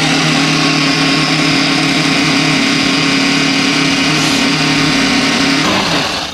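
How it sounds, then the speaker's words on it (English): Countertop blender whirring steadily as it blends olive oil, garlic, parsley and fresh basil into pesto, a loud continuous motor drone held throughout and easing slightly at the very end. "blender."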